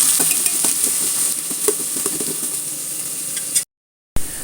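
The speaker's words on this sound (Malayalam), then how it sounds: "രണ്ട് പച്ചമുളക് ഇട്ട് കൊടുക്കുന്നുണ്ട് കുറച്ച് കറിവേപ്പില ഇട്ട് കൊടുക്കണം നല്ലോണം ഒന്ന് വഴറ്റിയെടുക്കാം" Green chillies and curry leaves sauté in a hot pan, a steady close sizzle with scattered scraping stirs, then a sudden brief cut to silence before the frying resumes.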